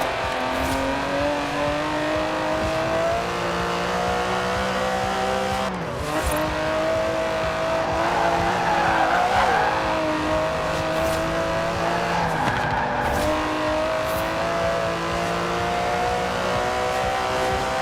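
An Aston Martin DB11 with a 5.2-litre twin-turbo V12 in the racing game Forza Horizon 4 revs and accelerates, engine pitch rising and dropping through gear changes with some tire squeal, loud and continuous.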